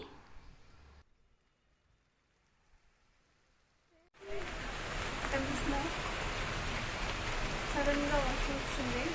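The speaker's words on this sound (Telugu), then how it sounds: "ఇప్పుడు కూడా చూడండి చినుకులు అయితే స్టార్ట్ అయ్యాయి" Steady patter of light rain on a tomato field begins abruptly after a near-silent stretch, continuing as a soft, even hiss.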